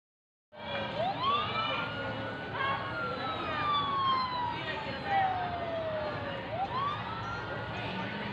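A siren wails with falling pitch sweeps as it passes, loud and continuous over traffic noise, with repeated rising and gliding tones.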